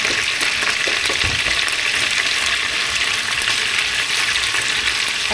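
Chicken sautéing in a pan together with aromatics for tinola, a loud, constant close-up sizzle with occasional light stirring ticks and no pause throughout.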